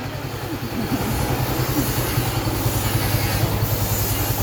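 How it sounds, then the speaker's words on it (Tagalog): A loud generator drones steadily nearby with a low, pulsing engine hum and a broad hiss on a hot outdoor street, with no talk over it. "Maingay po, di ba? Dahil sa generator."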